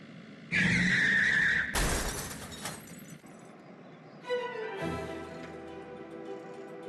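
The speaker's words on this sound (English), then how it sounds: "I'm causing a car crash." Cartoon-style car crash: a loud tire skid and screech, a burst of crashing impact noise, then a shorter second skid with ringing tones, all alone with no talking.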